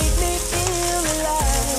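Zucchini and onions frying together in a pan give a steady, close crackling sizzle that runs the whole short stretch without a break.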